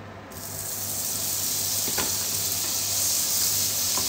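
Salted butter drops into a hot oiled pan and sizzles at once, a steady close frying hiss that holds throughout with a faint clink partway.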